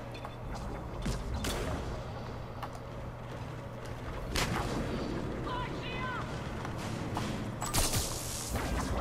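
Gunfire rattles through a Mass Effect 3 multiplayer match on PS3, with scattered shots and bursts at moderate distance over a steady game hum, plus brief mechanical clicks and a player talking intermittently.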